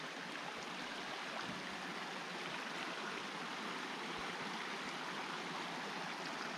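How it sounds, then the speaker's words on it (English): Small rocky river flowing along the Appalachian Trail, a steady continuous rush of water over rocks, close and even throughout with no voices. "Beautiful little rock river, if you will."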